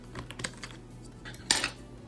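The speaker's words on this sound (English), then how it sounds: "Let me take out the spacebar." Spacebar keycap pulled off a mechanical keyboard: a few light plastic clicks and rattles, then one sharper snap as the cap comes free, close and alone.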